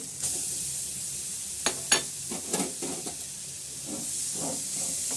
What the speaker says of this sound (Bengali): আদাটা দিয়ে একটু নেড়ে তারপর এটার সাথে আখের গুড়টা দিয়ে দিব